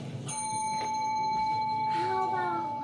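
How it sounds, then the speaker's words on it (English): A small handheld bell rings clearly and close by, with bright sustained tones struck a couple of times. Voices chatter around it in a casual home setting. "I'm gonna sit here and ring this bell until you come back over here"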